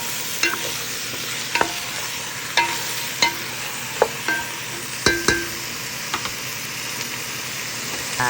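Chicken wings seasoned with fish sauce and salt sautéing in a pot for tinola, a steady sizzle under repeated metallic clinks and scrapes of a spoon stirring against the pot.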